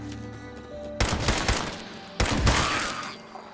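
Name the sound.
pipe pistol gunfire in video game Fallout 76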